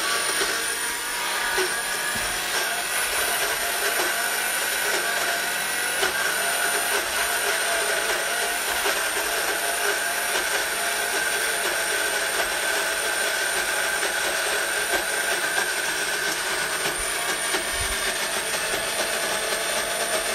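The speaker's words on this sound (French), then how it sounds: "Donc, on va venir mixer l'ensemble." A blender whirs steadily for about twenty seconds, blending the vegan dipping sauce for empanadas with a constant high-pitched motor whine and no talking.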